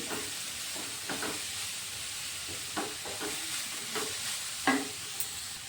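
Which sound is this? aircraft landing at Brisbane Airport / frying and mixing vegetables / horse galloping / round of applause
frying and mixing vegetables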